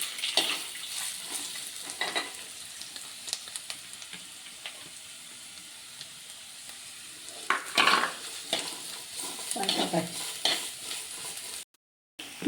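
Sliced onion and green chillies frying in a pan of oil, a steady close sizzle with occasional scraping stirs of a spoon against the pan, no voices, and a brief drop to silence near the end.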